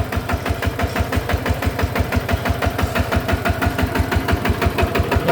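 A 14 horsepower hand tractor engine idles close by, loud and steady with a fast, even chugging beat and a knocking, mechanical rattle.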